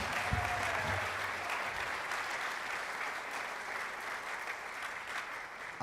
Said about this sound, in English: Can we get one more big round of applause for all of our recipients?